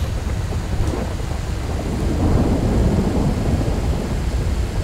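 Rain and thunder in the video game GTA 5: a steady wash of heavy rainfall with a low rolling rumble of thunder swelling midway, no voices present.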